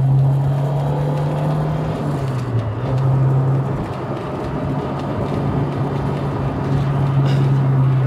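A Toyota AE86 with a 4AGE engine and six-speed gearbox drives a mountain touge road, its engine note holding a steady loud drone that dips briefly mid-way as it downshifts, then settles back into a sustained cabin hum.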